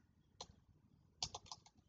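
Keys tapped on a computer keyboard while entering a new line equation, a few sparse quiet clicks followed by a short quick burst of keystrokes in a hushed room.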